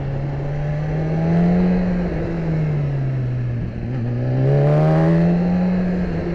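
A 2012 BMW S1000RR motorcycle ridden on a backroad in first gear at slow speed, its engine drone rising and falling steadily as the rider switches direction, with a brief rev toward the end.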